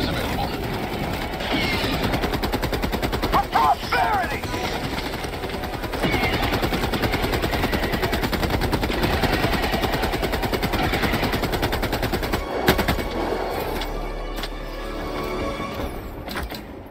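Sustained automatic gunfire in the Helldivers 2 video game, dense rapid bursts running loud and almost continuous for most of the stretch before tapering off near the end, with game effects layered over it.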